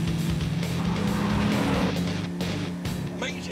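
A Dodge Ram SRT-10 pickup truck roaring under hard acceleration, its loud rumbling engine note rising and surging continuously, heard close up.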